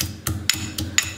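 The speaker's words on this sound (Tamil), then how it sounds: "அது இஞ்சி தட்டியாச்சு, இதில் போட்டுடலாம்." Ginger pieces pounded for Arabic Sulaimani tea, heard as four sharp, evenly spaced thuds about a quarter second apart, close and fairly loud, with no talking.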